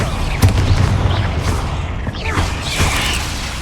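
Bombarda blasting spell going off in Hogwarts Legacy, a loud booming burst amid dense game combat noise and whooshing effects, with a voice calling out over the short, busy stretch.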